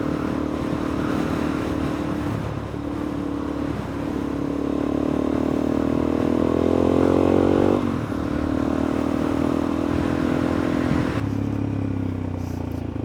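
Dirt bikes, a Suzuki DRZ400E or KTM 450, ride an unpaved country road near Nabiac, the engine droning steadily and loudly throughout with a rising rev in the middle and a brief throttle dip.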